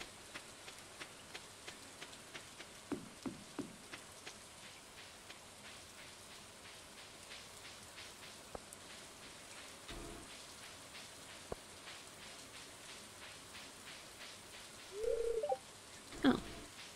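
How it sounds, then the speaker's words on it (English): Rain falling in the video game Stardew Valley, a soft steady patter with scattered drop ticks, with a few short louder game sounds near the end. "Walking in the rain."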